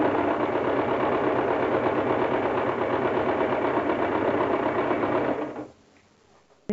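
A sewing machine runs a steady, fast mechanical stitching rhythm while sewing the seams of a straight skirt, then stops abruptly near the end, leaving near silence.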